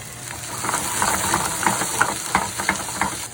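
Fresh-cut peppers and onions fry in a pan, a close, steady sizzle broken by repeated soft scraping and stirring strokes in an irregular rhythm.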